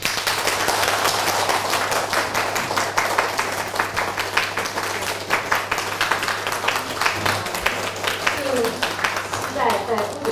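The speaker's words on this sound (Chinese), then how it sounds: "所以让我们大家再次以热烈的掌声感谢仁波切。" A university forum audience at Nanjing University gives Rinpoche warm, sustained applause, dense rapid clapping filling the hall with no pause, tapering slightly near the end.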